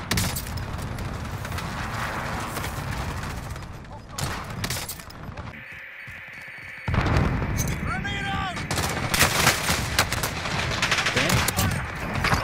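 Gunfire rattles in a Call of Duty match, sustained loud shots and bursts nearly throughout, with a short lull in the middle, while players talk over it.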